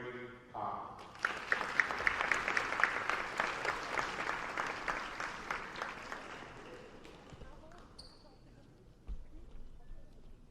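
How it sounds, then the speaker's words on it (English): Clapping from the bleachers at a high school volleyball senior-night ceremony, swelling after a brief spoken intro into a dense burst of applause that gradually thins, with a voice talking near the end. "Give another round of applause for Miss Avery Conley"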